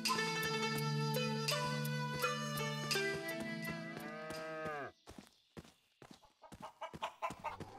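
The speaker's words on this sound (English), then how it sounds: "Lots of cattle." Cattle mooing on a farm in the video game Shenmue III, faint drawn-out lowing calls under a layer of music, followed by scattered clucks and clicks once the music stops.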